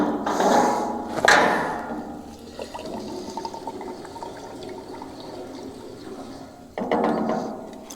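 Fuel additive poured from a bottle into the driver's-side tank of a dual-tank Chevy LUV pickup, a liquid gurgling and splashing in bursts at the start and end, louder near the opening.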